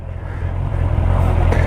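A 2022 Honda CBR650R sport motorcycle engine hums steadily while riding, a constant low drone with wind rush that builds slightly louder over the short stretch.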